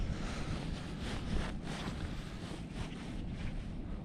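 Wind blows across open water during pike fishing from a boat, a constant low rumble of buffeting with faint lapping, steady and fairly quiet throughout.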